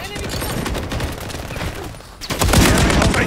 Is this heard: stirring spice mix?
no